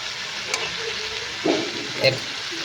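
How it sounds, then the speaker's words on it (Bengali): A spice paste fries in a pan while being stirred for a drumstick vegetable dish. A continuous soft sizzle runs throughout, with two louder scraping swirls of stirring near the end. "হালকাভাবে নড়াচড়া আপনারা শুরু করে দেবেন যাতে মশলার কালার ফিরে আসে"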